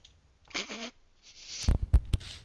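A short burst of low, sputtering flatulence-like noises, a few quick blats close to the mic, after a brief earlier murmur.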